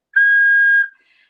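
A traditional Sicilian fischietto gives one clear, steady high whistle tone of under a second, close and loud, then stops into silence.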